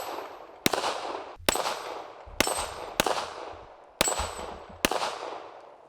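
A Springfield XD .40 caliber pistol fires at a steel dueling tree target: six sharp, loud, evenly spaced shots, each with a metallic ring and a decaying echo.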